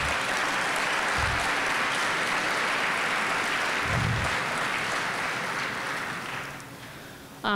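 Workshop audience applauds in a sustained, dense burst of clapping that holds steady for several seconds before tapering off near the end, with no talk over it.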